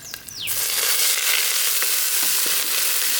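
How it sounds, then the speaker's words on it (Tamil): Garlic and chillies sautéing in oil in a pan for banana leaf chutney, a loud close continuous sizzle with a few light stirring clicks and a brief scrape at the start, no talk. "பூண்டு மிளகாவும் இந்த அளவுக்கு வதங்கினது போதும்"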